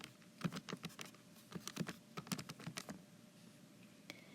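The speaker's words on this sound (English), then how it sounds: "Type it in." Numbers are tapped into a calculator or keypad in quick irregular bursts of clicks, close but quiet, with brief pauses and no speech.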